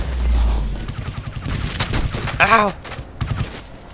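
Rifle fire rattles in Crysis 2, the video game, in a rapid run of sharp shots with scattered further bursts. A man cries out in pain partway through.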